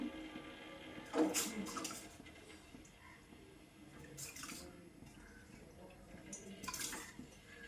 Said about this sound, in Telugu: ఇంక లివరు వేడి నీళ్ళు వేసేసుకుంటాను